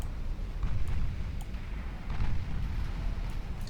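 Battleship 9-inch guns fire in the naval video game Ultimate Admiral Dreadnoughts, heard as a heavy, continuous low rumble with faint, distant booms rolling through it.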